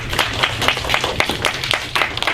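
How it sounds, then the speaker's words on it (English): An audience at a debate gives a speaker a short round of applause, with dense, lively clapping that continues throughout at close range. "Give her a round of applause"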